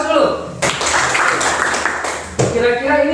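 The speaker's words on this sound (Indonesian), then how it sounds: "Beri aplaus dulu." Classroom applause from students, a dense burst of clapping for about two seconds, with voices talking before and after.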